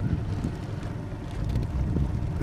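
Strong, steady wind gusts of 30 to 40 mph sweep across a lake during bass fishing, a constant low roar of buffeting wind noise on the microphone with no speech.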